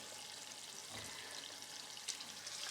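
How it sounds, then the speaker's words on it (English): A couple of onions sauté in vegetable oil in a pan, giving a faint, steady frying hiss with a small clink partway through, no voices. "I'm sauteing on vegetable oil some couple of onions"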